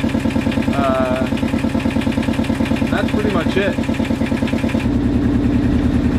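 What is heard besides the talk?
sailboat engine running, warming up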